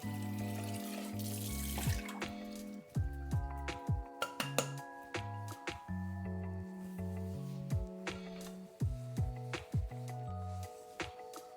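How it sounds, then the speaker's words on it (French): A saucepan is rinsed under a running kitchen tap after cooking rice, water streaming steadily with repeated clinks and knocks of the pan against the sink, close and fairly loud, no talking. "On va rincer notre casserole et on va remettre les riz dedans."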